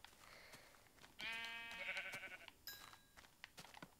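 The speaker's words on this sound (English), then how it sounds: "And then I can kill the sheep." A Minecraft sheep gives a single drawn-out, quavering bleat lasting over a second, loud and close against quiet game background noise with light clicking.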